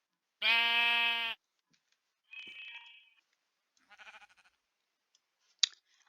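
A single loud, drawn-out Minecraft sheep bleat, then a few quieter scattered sounds and clicks with silence between them.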